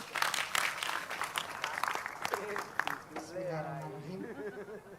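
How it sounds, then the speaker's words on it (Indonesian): Audience at a community gathering in Panggungharjo claps for the sub-district head as she is introduced: brisk, fairly loud applause for about two seconds that thins out as a voice begins speaking over the last of it. "Tepuk tangan semua."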